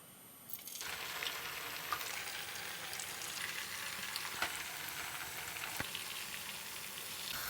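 Potato and rice snacks frying in hot oil, a steady close crackling sizzle with bright popping bursts running throughout, no voices.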